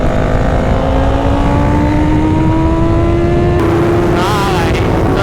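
A 2022 Honda CBR 650R and a 2024 Royal Enfield Continental GT 650 roar side by side in a drag race, one engine note rising steadily as it pulls through the gears, loud and close, with wind rush over the top.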